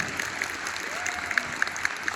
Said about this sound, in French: applaudissements encore pour lui